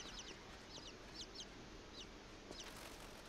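Chickens clucking in the video game INSIDE: several short, faint clucks in scattered bursts over a steady background hiss, with no talking.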